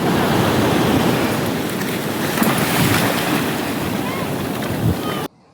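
Beach surf rolling in at sunrise, a constant loud wash of waves with heavy wind buffeting the microphone throughout, cutting off abruptly at the end.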